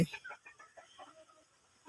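Several chickens cluck in short, soft bursts close by while feeding, a scattered murmur of clucks over a couple of seconds.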